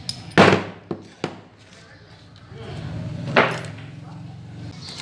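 A motorcycle engine with weak springs in its gear knocks, giving a few sharp, irregular clacks over a low running rumble, close by.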